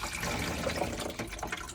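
Water is poured down the back of a sink basin that has no drain, running off through two small drains at the rear, a steady close rushing and gurgling pour throughout.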